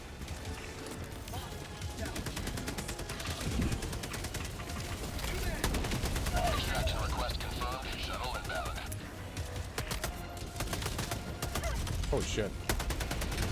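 Helldivers 2 combat fills the scene with dense, continuous rapid gunfire and heavy booming blasts from an incoming airstrike, while an excited player voice shouts over the chaos.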